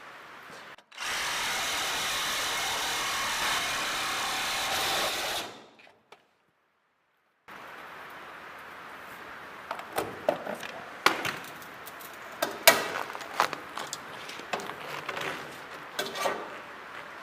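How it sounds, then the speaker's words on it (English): A Milwaukee Sawzall reciprocating saw cuts through metal stock for a cattle squeeze chute. A loud, steady buzzing run lasts about four seconds, then silence, then scattered close clanks and knocks of metal being handled. "Milwaukee Sawzall blade, and that works really good, cutting through metal"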